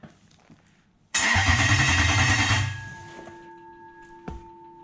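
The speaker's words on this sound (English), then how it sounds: "So that's how you prime a 1UZ oil pump." Toyota 1UZ V8 engine cranking on the starter to prime the oil pump, a loud, even churning burst of about a second and a half that stops abruptly, followed by a faint steady electrical tone.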